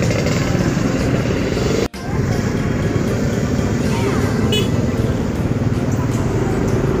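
Heavy, congested road traffic with motorcycles and cars, a continuous dense engine rumble close by, with a brief dropout near the two-second mark and faint horn-like tones.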